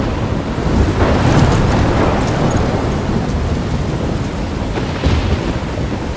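A thunderstorm in the video game Life Is Strange: loud, steady roaring wind and rain with low rumbling thunder, and no voices.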